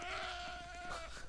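A farm animal call in the Roblox video game, with the cows as the stated source: one steady, drawn-out, bleating moo lasting the whole moment, close and fairly loud, with no talking over it.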